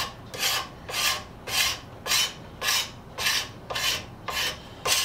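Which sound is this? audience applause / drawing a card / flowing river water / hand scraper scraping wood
hand scraper scraping wood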